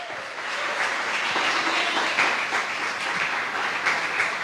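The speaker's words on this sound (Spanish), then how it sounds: "Ese aplausos para el Señor, que sea un poquito más fuerte," A church congregation applauds during a Spanish-language service, a full, steady wash of many hands clapping that swells slightly and stays strong throughout, with no talk over it.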